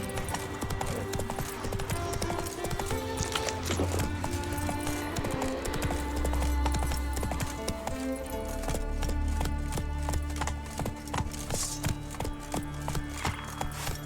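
Hooves clip-clop in a steady galloping rhythm in The Witcher 3, laid over a dense music score, with a brief horse whinny and faint voices.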